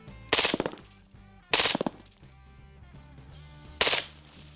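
An MP7 submachine gun fires three short, loud bursts of a few rounds each, separated by pauses, close and sharp over a quiet background.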